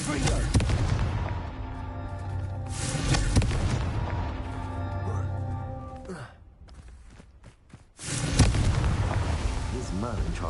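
A Confringo fire-spell blast in the video game Hogwarts Legacy bursts loudly and close, rumbling on for several seconds, dropping briefly, then erupting again. A voice sighs and gasps over the booming.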